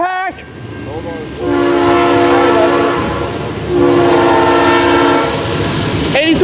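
Norfolk Southern locomotive 8353, leading train NS 825, blasts its RS3L air horn in long, loud sustained chords, two main soundings over a rumbling engine and rolling rail noise, heard up close.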